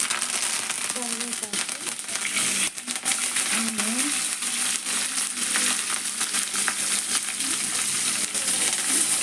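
Cashews, urad dal, chana dal, mustard seeds and cumin frying in hot oil for Bombay rava upma, giving a dense, steady crackle and sizzle with scattered pops and clinks, close and loud, while a voice speaks over it.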